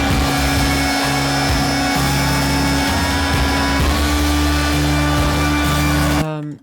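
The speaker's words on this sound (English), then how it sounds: "Tinnitus synth? Yes, I love the tinnitus synth." A loud tinnitus synth plays: dense, buzzing sustained tones topped by a piercing high whine, with the low notes shifting every second or so before everything cuts off abruptly.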